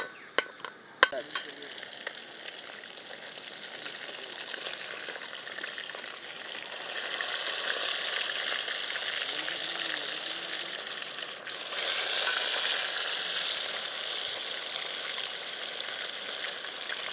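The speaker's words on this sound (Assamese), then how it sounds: "আমি বাকী মাছখিনিও এনেকৈ ভাজি ল'ম এতিয়া।" Catla fish pieces fry in hot oil outdoors, a soft sizzle that swells after a few seconds and grows brighter and louder again later, with a brief clatter at the start.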